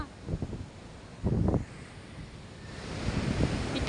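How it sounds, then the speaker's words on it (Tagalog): Big waves breaking along a shore after a super typhoon, with wind buffeting the microphone; a few surges of surf rise and fall, loudest near the middle and building again toward the end. "Ang lalaki ng alon."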